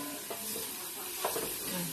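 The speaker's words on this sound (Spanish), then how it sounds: "Vamos a freír el pollo con cebolla." Chicken frying with onion in a pan for chiles rellenos, a soft continuous sizzle with a couple of faint stirring scrapes, fairly quiet.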